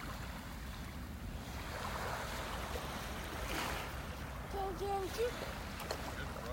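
Waves wash onto a rocky beach in North Naples, Florida, as a continuous broad rush with light wind; a voice speaks briefly over it near the end.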